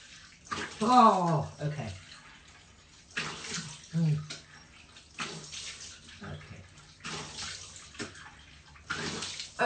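Tap water splashes in bursts as a woman rinses cleanser off her face by hand, no flannel, with intermittent splashing at the sink and a brief spoken remark.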